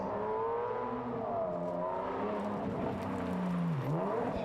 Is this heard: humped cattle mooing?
no